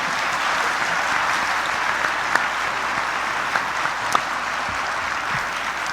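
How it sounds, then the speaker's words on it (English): A church congregation applauds in a dense, even wash of clapping that holds steady throughout, fairly loud and filling the room, with a few sharper claps standing out. "A round of applause for Tina."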